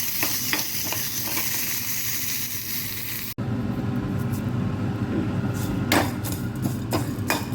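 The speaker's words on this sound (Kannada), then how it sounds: "ಈ ಕರಿಬೇವನ್ನು ಈ ಒಗ್ಗರಣೆಗೆ ಹಾಕ್ತಾಯಿದ್ದೇನೆ. ಅದನ್ನು ಹಾಕಿ ಹುರಿತಾ ಇದ್ದೇನೆ." Curry leaves fry in hot tempering oil in a pan for sambar, giving a loud, continuous close sizzle with scraping stirring clatter and sharp spatters, briefly cut off partway through.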